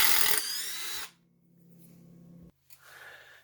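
A power drill backs a screw out of wood after a heavy-duty hole saw cut, starting with a loud close whir, then a lower steady motor hum that cuts off, followed by a short final burst.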